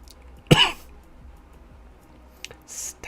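A man gives one sharp, close cough, followed by quieter mouth and throat noises and a brief softer throat sound near the end.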